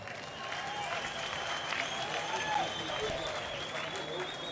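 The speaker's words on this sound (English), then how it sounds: "You can give a louder applause than that." Crowd applause at an ANC January 8 Statement event, a broad steady wash of clapping and cheering from a large audience, sustained at even loudness with voices mixed in.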